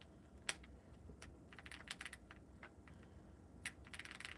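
Quiet clacking keystrokes on a custom-built mechanical keyboard with a new keycap set, irregular bursts of close, crisp clicks with short pauses between them.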